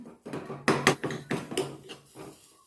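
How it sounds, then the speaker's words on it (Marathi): Metal spoon scraping and clinking against a pan while wheat flour is stirred in ghee over low heat, in a series of close, uneven scrapes and taps with brief pauses. "अशा प्रकारे त्याला चमच्याने हलवत राहा त्याचे गोळे या ठिकाणी बनू देऊ नका"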